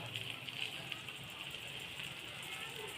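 Pabda fish fry in hot mustard oil in a pan, a faint, steady sizzle and hiss with tiny crackles running unbroken throughout.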